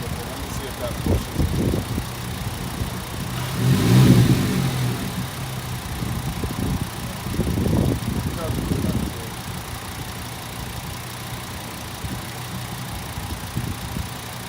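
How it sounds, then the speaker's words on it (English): VW Jetta 2.5L engine idling steadily, then swelling in a couple of short revs as the throttle is pressed, with voices talking nearby. "And give it some gas. Push on the gas a little bit."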